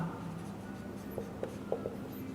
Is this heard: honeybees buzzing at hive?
no